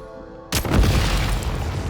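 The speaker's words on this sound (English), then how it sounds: "Shoot the explosives to detonate them and clear the path." Explosives detonating in the Genshin Impact video game, a sudden loud boom that cuts in abruptly, then a sustained, heavy rumbling blast that stays loud to the end.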